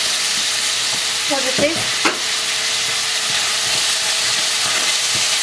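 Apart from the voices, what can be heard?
onion frying in oil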